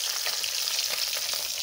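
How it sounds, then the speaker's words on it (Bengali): Tilapia fish sizzling steadily in hot oil in a pan, a dense continuous hiss with faint crackles, close and fairly loud throughout with no talking. "মাছ ভাজা নামাই নিচ্ছি।"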